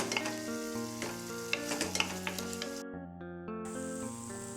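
Grated apple is stirred in a hot pan for apple maida halwa, with a soft, continuous sizzle and gentle stirring scrapes heard beneath loud melodic background music.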